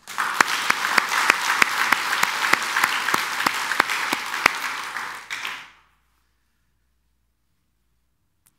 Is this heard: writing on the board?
no